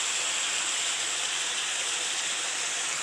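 Chicken pieces fry in a pan with a dense, steady hiss that stays even and close throughout.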